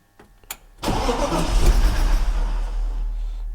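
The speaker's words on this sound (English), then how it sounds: "I want to hear the engine first before I put the coolant inside the car." A car that has stood unused for two years has its engine cranked: a few faint clicks, then a sudden loud churning rumble as the starter turns the engine over continuously without it catching.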